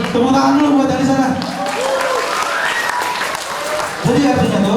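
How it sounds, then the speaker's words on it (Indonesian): An audience breaks into applause, a broad wash of clapping heard under a man's speech, swelling at the start and again near the end. "Tepuk tangan dulu buat dari sana."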